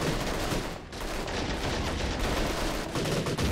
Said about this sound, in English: This 50 cal is tearing it up.